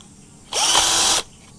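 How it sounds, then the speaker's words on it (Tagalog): A power drill bores a hole into plywood, a loud whining burst lasting under a second that starts and stops abruptly, with quiet room tone before and after. "So, gagawin ko ay bubutasan ko muna."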